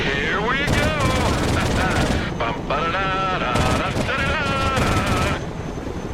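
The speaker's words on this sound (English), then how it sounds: "If you were asked to fire a Cal 21 out the side of a Chinook, you're pretty legit." Machine gun fire from the side of a Chinook helicopter in the Broken Arrow video game, sustained rapid bursts over heavy rotor and engine roar, with an excited voice talking throughout.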